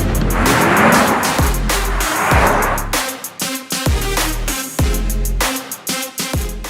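Audi e-tron 2021 electric SUV launching hard from a standstill, with a steady rush of road and tyre noise that surges, then pulses in repeated swells as it gathers speed.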